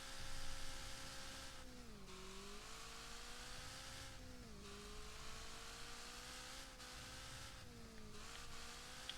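High-revving engine of a C-class race car in the Wreckfest racing game, screaming continuously near 9,000 RPM with brief dips at gear shifts, loud and steady throughout with no talk.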